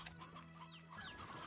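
Game chickens cluck in Slime Rancher 2, a few short clucks and a sharp click near the start over a steady low background hum, fairly faint with no talk.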